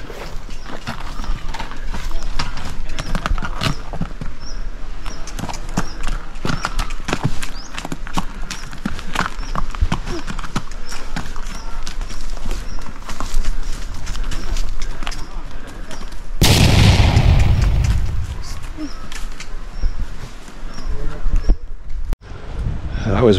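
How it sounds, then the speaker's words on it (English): Horses carrying gravel and sand up to a house build site in the Philippines clip-clop in quick, uneven hoofbeats close by, with a burst of wind noise partway through and people speaking over it. "They're still bringing gravel and sand up using the horses."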